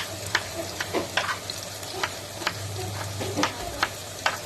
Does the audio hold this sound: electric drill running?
no